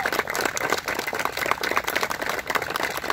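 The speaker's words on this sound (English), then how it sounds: "let's give them one more round of applause" Wedding guests at a winter ceremony give the couple a sustained round of applause, dense, steady clapping from a crowd that stays loud and even throughout.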